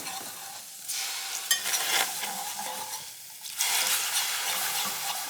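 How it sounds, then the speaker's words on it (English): Gravy and veggie broth are whisked quickly in a pan, a continuous bright swishing hiss that rises and falls in waves, growing louder and fuller toward the end. "And you keep whisking it quickly together so it doesn't get all lumpy"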